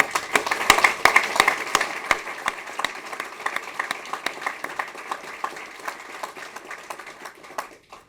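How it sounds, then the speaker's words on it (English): An audience at a bank's award ceremony claps for two honorees, a moderate crowd applause with distinct individual claps standing out, strongest early and gradually thinning toward the end. "would you give them a round of applause?"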